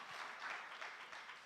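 Brief burst of congregational applause inside a church worship service, a dense wash of many hands clapping together at steady volume.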